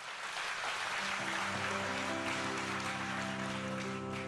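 A church congregation gives a long, soft, continuous round of applause while sustained keyboard chords swell underneath, the clapping steady and somewhat distant throughout.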